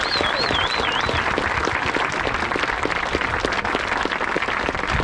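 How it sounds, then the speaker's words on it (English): Outdoor crowd applause for parkrun runners at Tonbridge, including a group from Maidstone Harriers, dense steady clapping throughout with a high whistle early on and faint voices mixed in. "so a quick round of applause for everybody"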